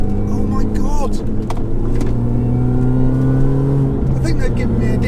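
A Mini R53 on the road with a faster, softer setup, its engine droning steadily and loud from inside the cabin, with revs rising and shifting tone, while someone talks over it.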